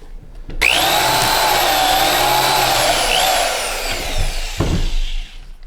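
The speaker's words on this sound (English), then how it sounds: "Now you can drill it by hand or you can actually drill it with one of these." A power drill bores holes in a part for a woodshop dust collection system, a loud steady whining drone lasting several seconds before winding down with a brief clatter at the end.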